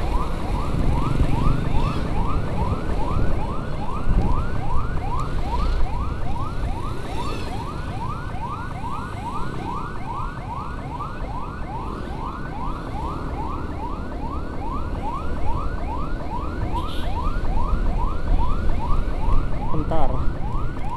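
A village ambulance siren wailing in a fast repeating yelp pattern in Tasikmalaya, loud and steady throughout, over traffic rumble.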